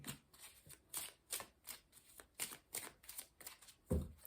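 Tarot cards being shuffled by hand, a quiet close series of soft riffling, flapping bursts in an uneven rhythm, ending with a slightly heavier tap.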